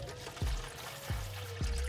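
Fresh water poured into a king snake's cage during cleaning, a soft steady trickle with a low hum underneath and a few brief knocks, close by with no talking.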